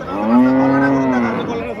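A Holstein Friesian cow moos once, a deep, drawn-out low call, loud and close by.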